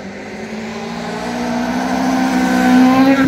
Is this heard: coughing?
no